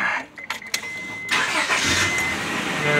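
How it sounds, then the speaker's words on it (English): An old 1998 Honda Prelude engine starts: a few short clicks and cranking bursts, then the engine catches and settles into a loud, steady running roar heard close up, with no talk. "turn on your car"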